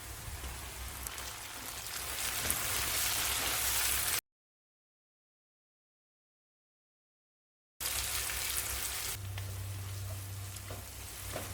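Onions sautéing in a pan for chicken biryani sizzle and fry steadily, with tomatoes tipped in; the frying noise cuts out briefly midway, then returns with a low hum underneath.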